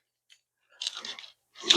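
Biting into a crunchy same-day sourdough pizza crust baked on a pizza steel, two close crisp bursts of crunching chewing with a brief pause between, no talking.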